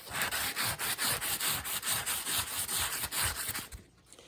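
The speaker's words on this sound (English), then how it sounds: "I'll get a piece of well-used emery cloth or very fine grit. It's not sandpaper, and give it the old belly rub, top and bottom." Well-used emery cloth rubbed back and forth over a great wheel's axle in a workshop, a quick even rhythm of close, dry scraping strokes that stops near the end.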